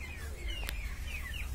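A rooster calls in drawn-out, sliding cries against a steady low rumble, with a brief sharp click partway through, at a zoo in Mykolaiv.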